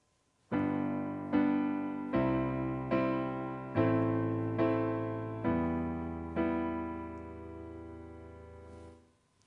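A slow sequence of sustained keyboard chords, about eight in a row, each struck evenly and ringing into the next, smooth and close with no voices.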